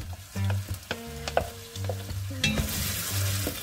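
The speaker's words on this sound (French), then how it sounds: "Et je viens maintenant mettre l'intégralité de mes oignons. Donc 500 g hachés finement." Chopped onions, 500 g finely minced, sizzle steadily in hot oil in a pan for a green tomato chutney, with a continuous close frying hiss broken by the clacks of stirring, and no voices.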